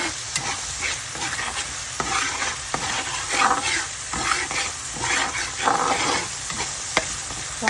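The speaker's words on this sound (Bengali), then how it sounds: "একটা টমেটো বাটা, কাঁচা গন্ধটা চলে যাওয়া পর্যন্ত আমি কষাবো।" Tomato paste stir-fried in a pan for fish curry, with a steady close sizzle broken by repeated scraping strokes of a spoon against the pan.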